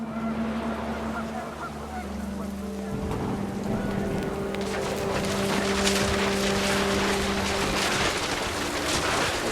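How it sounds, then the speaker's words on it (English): Wind and a heavy downpour in the video game What Remains of Edith Finch: a low hum and goose-like honks at first, then dense hissing rain swells midway and pours on steadily and loudly to the end. "The rain came down in buckets then"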